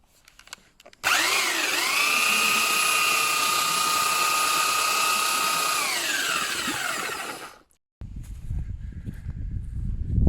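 Handheld power mixer churning concrete on a building site for an A-frame house foundation, a loud whining motor spinning up and running steadily for about six seconds before stopping, followed by rough scraping and mixing noise.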